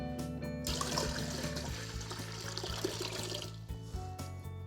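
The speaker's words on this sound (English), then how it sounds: "I'm using warm tap water." Warm tap water pours steadily into the inner pot of a Ball electric canning system, a soft continuous running and splashing stream with a faint hum under it.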